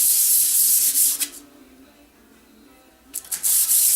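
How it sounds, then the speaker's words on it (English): Bronze thrust washer from a 1980 Can-Am MX-6 125 being hand-sanded on 220-grit sandpaper: bursts of close, hissing back-and-forth rubbing strokes, then a quiet pause before the scraping resumes. "This is 220 grit, just to get some of the sanding scratches out."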